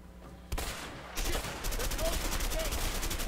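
Gunshots in A Way Out during a Mexican shootout: a quiet lull, then a sudden sharp shot, followed by a dense stream of rapid fire that continues loud to the end.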